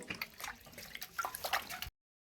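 Peeled mangoes are splashed and rubbed in water, with close sloshing and dripping throughout before the sound cuts off abruptly.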